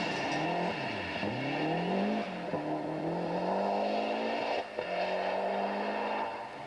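Ari Vatanen's rally car, with its engine misfiring, roars loudly and continuously on a 1991 Rally of Great Britain stage, its pitch sweeping up and down through repeated revs with a brief dip near the end; no one speaks.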